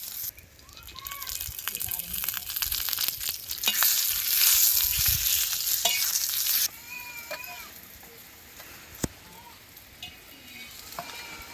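Onions hiss and sizzle as they roast in oil, louder at first and then quieter, with a voice talking and a cat meowing faintly nearby.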